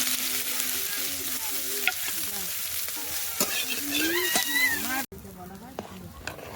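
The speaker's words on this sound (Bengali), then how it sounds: "সেই কড়াইতে একটু তেল দিয়ে দিয়েছি সয়াবিন ভাজার জন্য" Soya chunks fry in oil in a wok, a steady sizzle with stirring scrapes, while a voice talks over much of it; the sound drops briefly near the end, then resumes.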